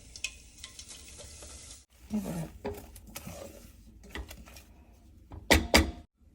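Mustard seeds, curry leaves and crushed peanuts dropped into hot oil for a winter vegetable dish, giving a steady close sizzle with crackling pops and stirring clatter, several louder sputtering bursts near the end.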